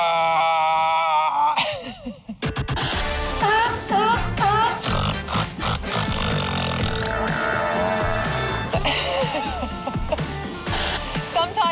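A person imitates a seal's aggressive burping call, a loud, drawn-out guttural belch repeated in rough bursts over a busy music bed.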